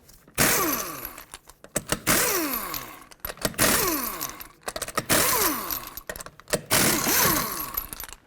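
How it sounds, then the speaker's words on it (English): An impact wrench spins off the five wheel lug nuts on a 2001–2007 Toyota Highlander using a 21mm socket, in repeated loud, close bursts that rise and fall between short pauses. "Remove all 5 of your lug nuts."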